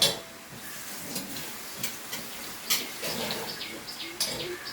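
A spoon stirs coconut, salt and beans in a pan, giving light scattered scrapes and ticks over faint sizzling, with a few soft chirps in the background.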